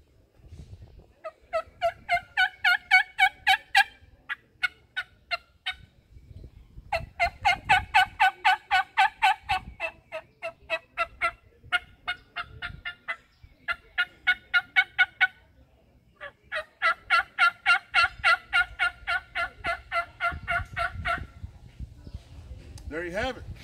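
A hand-operated turkey call imitates wild turkey gobbles from a hunting blind: close, loud bursts of rapid rattling notes in repeated phrases with short pauses between them.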